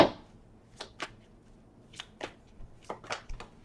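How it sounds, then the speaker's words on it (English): Oracle deck cards being shuffled by hand, a quiet series of soft riffling flicks and taps in irregular bursts, close and alone without talk. "One more shuffle, guys."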